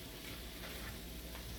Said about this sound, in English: So now you hear it frying.